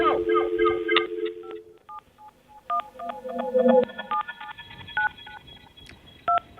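Telephone keypad dialing tones on a morning radio show, a rapid run of short DTMF beeps in an irregular rhythm, preceded by a brief steady tone, with talk faintly mixed in.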